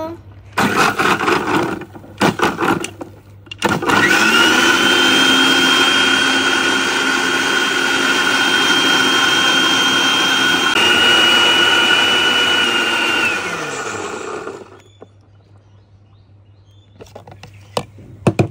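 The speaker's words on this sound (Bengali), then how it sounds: "তো এবার আমি ভালোভাবে ব্লেন্ডার করে নেব।" A kitchen blender runs loud and steady for about ten seconds, blending jagger fruit with a glass of water for juice, then winds down with a falling whine, with brief handling clatter before and after.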